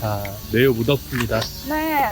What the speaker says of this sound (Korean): 매미 소리 들리시나요?